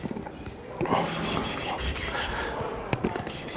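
Scraping and rasping of a reamer working burrs off the freshly cut end of a copper pipe, a steady close rub with a few sharp clicks near the end.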